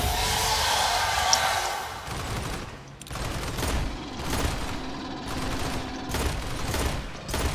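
Rapid bursts of gunfire in the video game Aliens: Fireteam rattle in uneven clusters over a busy background of game noise and mechanical clatter, moderately loud and without speech.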